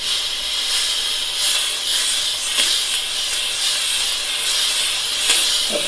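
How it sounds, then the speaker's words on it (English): Rowenta RY8561WH clean and steam multi steam cleaner hissing steadily and loudly, a continuous broadband rush of steam with small fluctuations, heard close and alone without talk. "now you see the steamer has already turned on and you can start using it properly"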